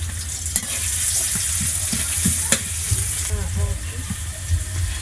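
Onions frying in a pan for liver curry, a steady close sizzle with scraping stirs and brief clinks running throughout.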